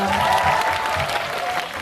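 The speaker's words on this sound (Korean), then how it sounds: "박수 부탁드립니다" A room full of people applauds steadily at a film event, a dense wash of clapping throughout.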